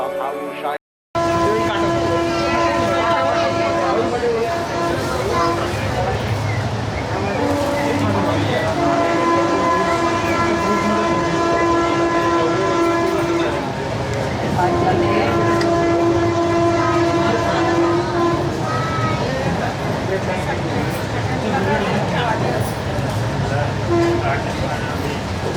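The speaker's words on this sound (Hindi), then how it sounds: "चलिए आप एंजॉय कीजिए इस जर्नी के फर्स्ट मेजर स्किप को, जो कि है नडियाद जंक्शन" A Jan Shatabdi Express train runs through Nadiad Junction without stopping, heard from inside a Vistadome glass coach: loud steady rumble and rail clatter with long sustained horn blasts.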